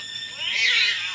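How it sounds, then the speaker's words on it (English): A cat in a TV show lets out one drawn-out, rising and falling meow, loud and close, with nothing else heard. "Yeah, that's the cat."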